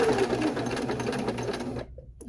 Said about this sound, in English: I can stitch in the ditch across here and quilt the front to the back with the lining